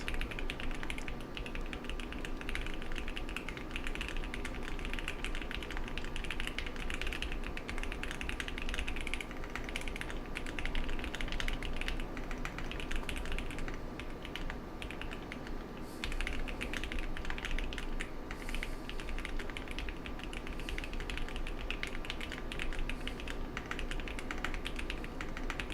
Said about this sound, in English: I think I've gotten slower at typing.